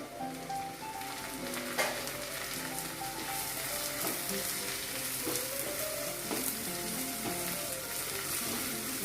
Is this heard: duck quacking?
no